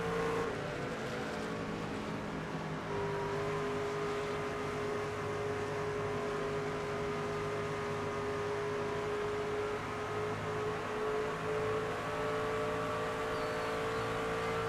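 Constant high-pitched drone of race truck engines at Pocono in NASCAR 25, a sustained whine with steady harmonics and slight pitch shifts as trucks run close together, with no voices.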